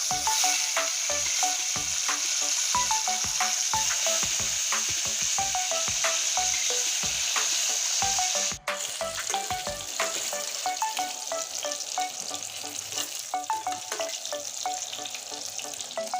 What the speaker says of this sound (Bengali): এবার মাছগুলো উল্টিয়ে দিচ্ছি দেখুন